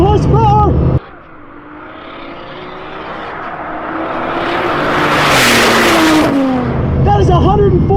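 A four-turbo, 1,001-horsepower car accelerates past, its roar building from a low drone into a loud whooshing peak before fading, with excited voices shouting at the start and end.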